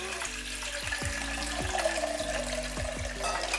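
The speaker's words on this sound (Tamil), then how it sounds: "இப்போ 1 கப் அளவுக்கு தண்ணி ஊற்றிட்டு இன்னொரு 1/4 கப் அளவுக்கு தண்ணி ஊற்றிக்கலாம்." Water poured onto soaking basmati rice in a pot for biryani, a soft steady splashing trickle heard close up, with several light knocks in the background.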